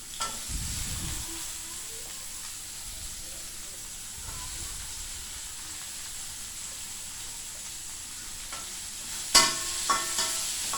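Fern greens and sliced carrots are stir-fried in a pan, a soft steady sizzle and hiss with occasional utensil scrapes and a sharp clatter near the end, heard faintly alongside quiet talk.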